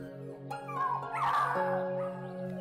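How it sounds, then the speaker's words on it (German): Puppies lying in straw behind a wooden gate in a barn box on a mountain farm give thin whimpers and yips. The sounds are soft and brief over a steady sustained tonal background, with no talk. "Hundewelpen!"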